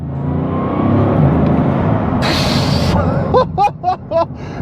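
A Bugatti Divo with a carbon-fibre body roars loud and close as the engine revs under hard acceleration, a dense rumbling wash with a brief hissing burst midway, then excited shouting over the engine near the end.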